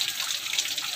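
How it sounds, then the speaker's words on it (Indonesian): Cold water poured over the starter motor of a Mitsubishi Canter truck, a steady, close hissing splash that runs for about a second with no talk. "Coba kita siram dulu pakai air."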